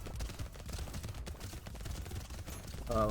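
Enemies firing bullets in the video game Brotato, a dense, quiet spatter of small rapid shots over a soft rumbling game soundtrack, with a short tonal chime near the end.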